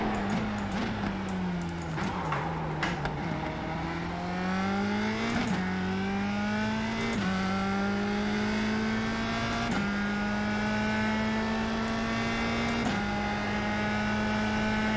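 A USF 2000 open-wheel race car's engine in a racing game drones steadily and loudly, its pitch rising through each gear, dropping sharply at several shifts, then climbing again, with continuous revving throughout.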